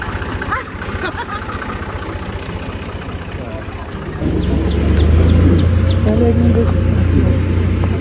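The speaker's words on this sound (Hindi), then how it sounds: "खूबसूरत चिड़ियाओं की आवाज़ें आ रही हैं।" Birds chirp in a few quick bursts outdoors beside crop fields in Punjab, partly masked by a loud idling engine rumble and people talking.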